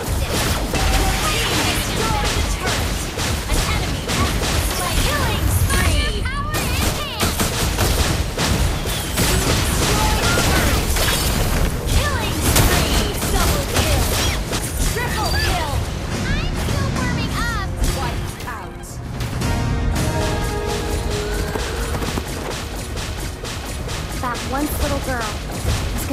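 Sustained video game gunfire and crashing impacts during an attack on turrets, loud and dense throughout, with explosive bursts layered under game voices and music.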